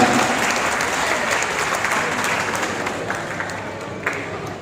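Sustained, dense applause from an audience at an Indonesian campaign address by a DPD RI candidate from Riau, loud and steady throughout with no speech over it.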